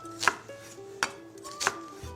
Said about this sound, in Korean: 슬라이스 말고 깍둑 썰어 준비해 주세요